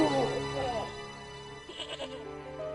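A tethered goat in the video game Broken Sword, its rope tangled on an old plowshare, gives a loud, wavering bleat up front, followed by quieter game sounds and a brief brighter flutter.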